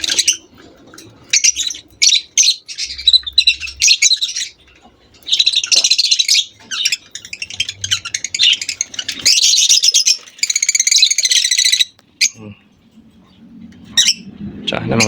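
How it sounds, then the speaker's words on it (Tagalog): Pet birds in a home aviary chirp and tweet in quick, lively bursts with short pauses between them, and a low murmur rises near the end. "May ganito tayong ibon mabait."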